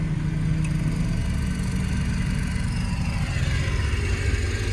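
A plant machine's diesel engine running steadily at idle, a continuous low rumbling drone with mild throbbing, close and unchanging with no voices.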